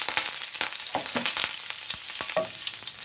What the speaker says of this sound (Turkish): Şimdi tavamıza yağımızı alıyoruz.